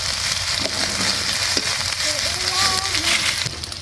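Meat sautéing in a pan for a desi-spiced meat curry, a steady broadband sizzle running throughout at moderate loudness with a few faint scraping stirs and a brief whistle-like tone near the end.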